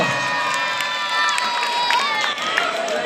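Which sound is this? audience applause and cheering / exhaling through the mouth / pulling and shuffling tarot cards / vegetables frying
audience applause and cheering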